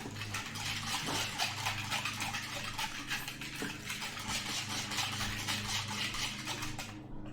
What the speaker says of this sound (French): je vais mélanger avec mon fouet mélangeur.